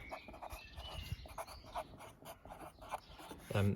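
Pen writing on paper: soft, close scratching strokes coming in short bursts at a quiet level, with a brief louder knock right at the end.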